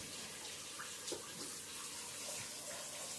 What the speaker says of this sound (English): And now I'm going to put the water.